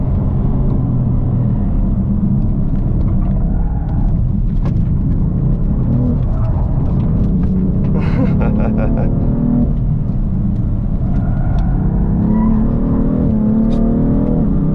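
Engine of a BMW M3 Competition Package heard from inside while driving, a loud, steady rumble that rises and falls as it revs through the gears, with no pauses across the clip.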